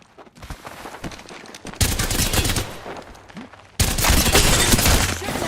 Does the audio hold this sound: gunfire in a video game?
yes